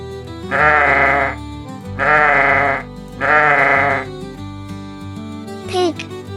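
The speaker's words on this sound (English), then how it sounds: "Sheep," Sheep on a farm bleating three times in loud, wavering calls of about a second each, evenly spaced, with a short higher cry at the end.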